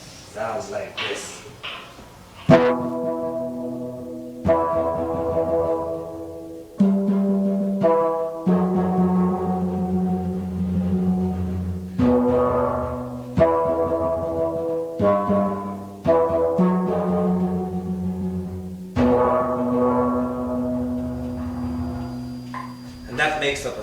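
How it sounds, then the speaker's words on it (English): Six deep bass steel drums from a steel band in New York ring out in slow, booming notes and chords, each strike sustaining with rich low overtones, played alone and fairly loud without any voices. "the big daddy of them all, it's what you call the deep bass."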